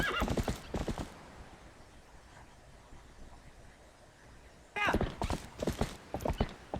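A horse being ridden in the video game The Legend of Zelda: Twilight Princess, with hooves clip-clopping and loud neighs in bursts at the start and again near the end, separated by a quieter stretch.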